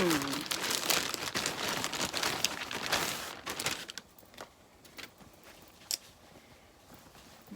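Crinkling plastic packaging as a received parcel is unwrapped, loud and busy for the first few seconds, then thinning to sparse rustles and a few sharp crackles.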